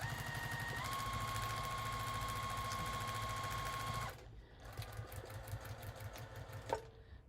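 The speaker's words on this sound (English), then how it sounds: "so you can watch me sew" A sewing machine stitching paper piecing, a loud steady rapid run of needle strokes with a whine that stops, then a quieter rhythmic stitching burst with a click.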